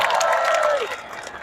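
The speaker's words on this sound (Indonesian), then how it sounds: "Boleh kasih beri tepuk tangan buat" Applause from an audience gathered at a student and labor political event, broad and steady through the clip with a crowd murmur mixed in, fading slightly toward the end.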